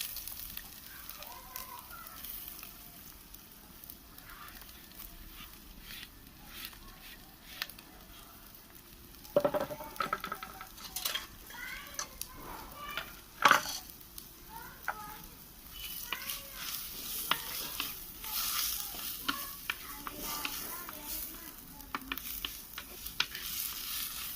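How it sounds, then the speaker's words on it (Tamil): Onions frying in oil in a pan for kadai chicken, producing a soft, steady sizzle broken by occasional stirring clatters and knocks, with a voice and faint speech in the background. "இப்போது வெங்காயத்தை போடுறேன்."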